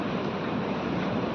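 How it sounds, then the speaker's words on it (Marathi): Sea waves at Baga Beach in Goa wash in as a constant, broadband rush of surf and wind, fairly soft and unbroken, with no voices over it. "समुद्रात आलोय मित्रांनो आपण."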